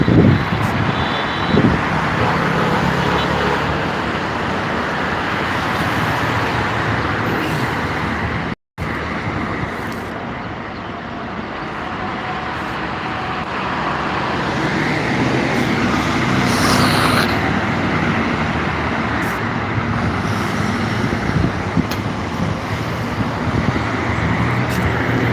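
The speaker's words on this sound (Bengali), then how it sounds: "এখানে গাড়ি সেই স্পিডে যায়" Traffic roars steadily along a wide highway, Dhaka's 300 Feet road, with vehicles and motorbikes passing at speed in a continuous wash of road noise while a person talks over it.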